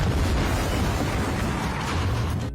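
Explosive charges go off together above and below ground near trucks in a heist film, making a loud, continuous roaring rumble of blasts that stays dense and heavy for the whole stretch.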